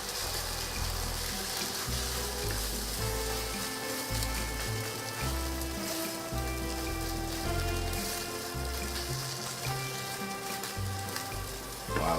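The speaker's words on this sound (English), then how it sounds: "Let's add the eggs. Voila, give it a little mix first to make sure the eggs mix with the bacon." Bacon and beaten eggs fry together in a pan, producing a steady, close crackling sizzle like rain on a surface that holds evenly for the whole stretch.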